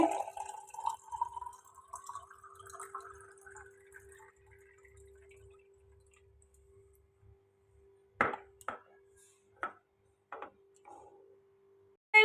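Homemade detox water pours into a glass with a steadily rising gurgle as it fills, followed by a few sharp drips and clinks close by in a quiet kitchen.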